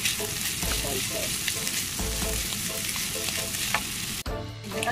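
Shredded chicken fries in a pan until golden brown, making a loud continuous sizzle with repeated stirring scrapes and one sharp clatter near the end, with no talk.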